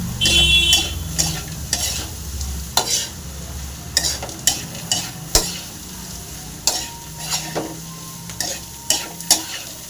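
Bitter gourd lemon fry is stirred and mixed in a pan, with repeated scraping and clanking of a spoon against metal in a steady rhythm over a continuous close sizzle.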